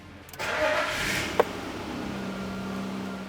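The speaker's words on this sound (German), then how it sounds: "Dazu lassen wir das Fahrzeug einmal laufen." A 1997 BMW 728i E38 engine cranks and catches with a sharp click, then settles into a steady, quiet low idle, close and alone without talk.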